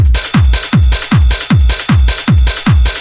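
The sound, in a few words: techno drums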